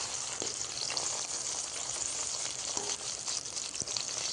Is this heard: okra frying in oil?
yes